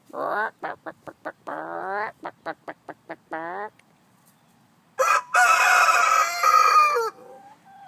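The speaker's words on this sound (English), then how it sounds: "Well, he didn't disappoint me. He crowed." A rooster crows in a series of short, loud bursts followed by a longer, harsh crow up close, with a brief quiet gap between.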